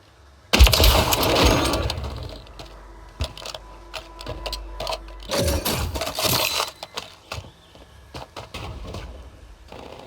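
Gunfire crackles in a Call of Duty Warzone firefight: a dense burst of shots up close, then scattered single reports and a second heavy burst, with quieter pops and debris between them.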